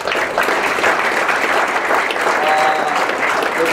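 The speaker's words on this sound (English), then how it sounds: "So just a quick round of applause for everyone that supported us" Sustained applause from the audience at a school board meeting honoring a high school team's season, a steady wash of many hands clapping at a constant, loud level throughout.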